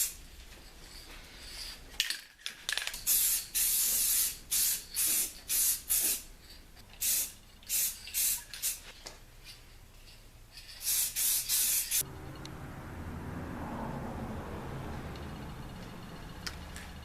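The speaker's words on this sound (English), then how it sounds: "Now I'm going to apply Valspar clear also" A can of Valspar clear coat sprays onto a Chevy Astro or GMC Safari radiator core support in a series of short, sharp hissing bursts, about a dozen in a row, then falls to a quiet background.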